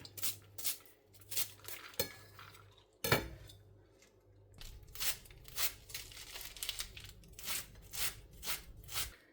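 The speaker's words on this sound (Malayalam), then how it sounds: "അങ്ങനെ നമ്മുടെ ബീട്രൂട്ടിൻ്റെ ഇലകളെല്ലാം അരിഞ്ഞെടുത്തിട്ടുണ്ട് കേട്ടോ." Fresh beetroot leaves and stems being chopped on a board, a run of crisp knife cuts with soft rustling and brief pauses, close and fairly quiet, with one sharper knock near the start.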